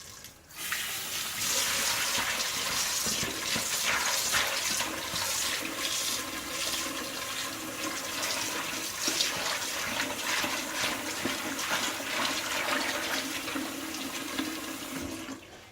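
Tap water runs steadily into a sink while pumpkin seeds are washed under it, a loud continuous hissing rush with faint splashing and rattling, lasting the whole stretch without voices.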